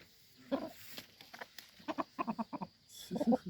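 Chickens cluck in short, choppy bursts in a village, several close calls clustered together with brief quiet gaps between them.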